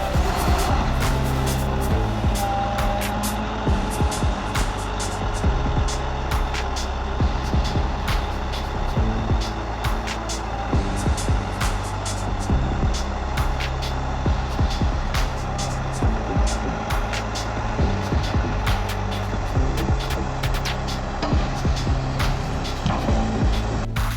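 A Volvo logging truck with its own crane being loaded with logs in a forest, a steady engine drone with repeated clunks and thumps of logs landing, heard alone at close range.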